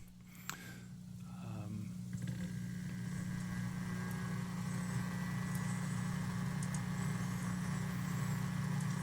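A USB medicine travel cooler's small engine runs with a steady, low electrical hum, fairly quiet and unbroken from start to finish, with no talking over it.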